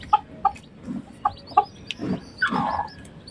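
Chinese Silkie hen clucking softly near newly hatched chicks, with a few short paired clucks and a brief higher peeping burst, close by with no talking.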